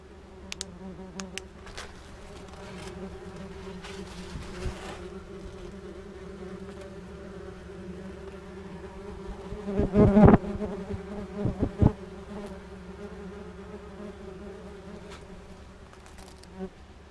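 Yellowjacket wasps buzz steadily around a wine barrel, several insects droning close by, with a louder, nearer pass around the middle before settling back to a continuous hum.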